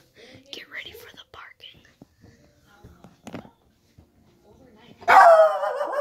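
A frightened dog during a thunderstorm at home in Appleton bursts into loud, sustained barking near the end, after a stretch of soft whispering and quiet talk.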